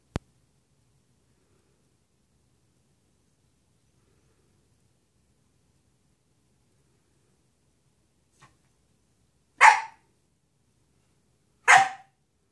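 A dog barks twice indoors, two sharp, loud single barks about two seconds apart, after a long near-silence broken by one tiny sound.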